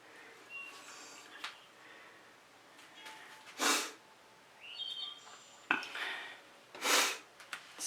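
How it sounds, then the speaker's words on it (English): Two sharp, close sniffles stand out in a quiet room, with faint chirps and small noises between them. "Excuse me for sniffling."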